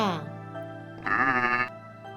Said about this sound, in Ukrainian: Так, це вівця.